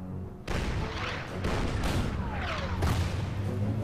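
In the Order of Battle war game, a tank fires on an anti-tank gun: a sudden loud cannon blast sets off a rumbling, crackling barrage of further booms and impacts that continues to the end.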